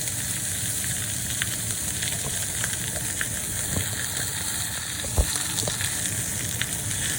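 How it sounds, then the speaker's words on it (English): A prime rib roast sears in a cast iron pan with a continuous hissing sizzle. Scattered small crackles and pops run through it, and one sharper knock comes near the end. "we're searing underneath and we're also searing part of the front side"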